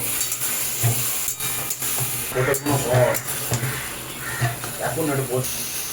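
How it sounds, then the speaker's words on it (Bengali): Powdered spices being stirred together with vegetables and a splash of water in a pan for an eggplant, potato and amudi fish curry, with scraping and soft sizzling running steadily under a continuous background hum. "এবার সব মশলাগুলোকে একসাথে মিশিয়ে নেব যেহেতু এগুলো গুঁড়ো মশলা তাই সামান্য একটু জল দিয়ে দিলাম"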